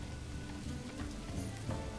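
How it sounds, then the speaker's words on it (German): Steady rain falls in the medieval city-building game Manor Lords, a continuous wash of soft hiss with scattered patter and no voices, even and unbroken throughout. "Klar, weil es gerade regnet."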